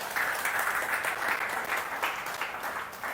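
A church congregation applauds during a Sunday worship service, a dense, continuous round of clapping from many people that holds steady throughout, with no talking over it.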